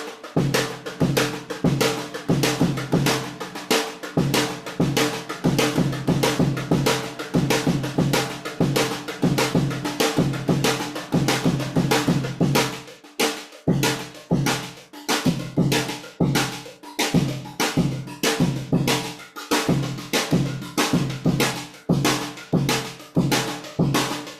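A snare drum plays a rudimental exercise with accent patterns. The strokes come in a fast, steady, loud stream, with brief breaks between phrases.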